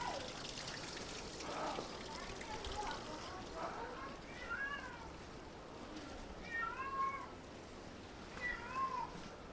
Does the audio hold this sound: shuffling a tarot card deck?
no